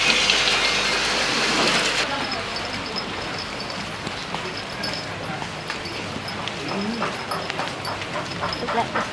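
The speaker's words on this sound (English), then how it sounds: "not a cat, it's a dog" A dog makes short, scattered vocal sounds in a noisy setting, with background clatter and some voices nearby.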